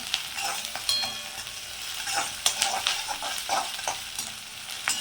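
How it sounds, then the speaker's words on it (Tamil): Small onions frying in a pan for prawn thokku, a continuous crackling sizzle with frequent scraping and clattering from stirring, close and fairly loud throughout. "சின்ன சின்ன வெங்காயம் தான், உங்களுக்கு தேவையான அளவு பார்த்து போட்டுக்கோங்க. நல்லா வெங்காயம் பொரியட்டும்."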